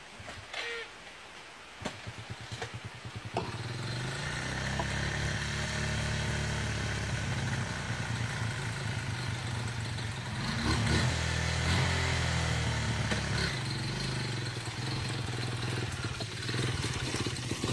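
A motorcycle engine idles steadily nearby, a low, continuous rumble with brief rises in revs, alongside faint background noise and occasional voices.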